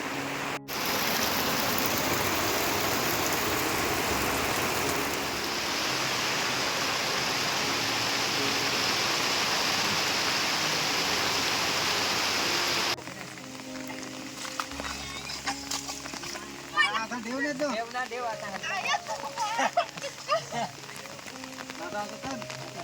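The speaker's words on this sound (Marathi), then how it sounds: "आज काय पाऊस थांबायचे नाव नाही घेत एवढा पाऊस आहे" Heavy monsoon rain in Konkan pours in a loud, steady hiss for about thirteen seconds, then drops to quieter dripping and patter with scattered knocks and faint background sounds.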